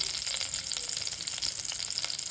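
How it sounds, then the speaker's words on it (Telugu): Onion dropped into hot oil in stone cookware, a bright, dense, continuous sizzle up close, even and unbroken throughout. "ఆయిల్ వేగాక ఫస్ట్ ఆనియన్ వేసుకోవాలి"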